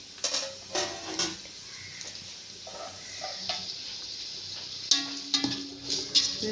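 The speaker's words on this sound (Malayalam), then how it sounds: "അപ്പോൾ അതിലേക്ക് നമ്മൾ ഇനി സവോള ഇടുകയാണ്." Three medium onions sautéing in sunflower oil in a pan, a low sizzle broken by frequent spoon knocks and scrapes against the metal, with clattering bursts near the end and no speech.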